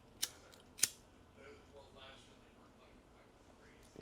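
Scissors snip rigging line for tuna fishing, two crisp separate cuts close by followed by quiet handling, with another faint click at the end.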